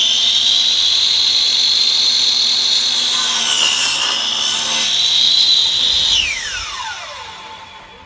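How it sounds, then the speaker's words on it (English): Hand saw cutting through a wooden board for a planter box, a steady loud rasping stroke that runs continuously and then tapers off near the end as the blade slows. "I have to make 2 cuts, and I'll have to flip it over so I can get all the way through my piece of wood"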